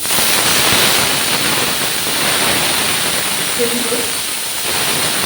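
Bitter gourd hits hot oil in a very hot iron wok and sets off a steady, loud, broad sizzling hiss that runs without a break from start to finish, with a brief faint voice rising above it.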